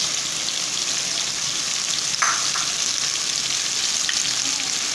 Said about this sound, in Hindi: इसको चमचे की मदद से अच्छी तरीके से पकाएंगे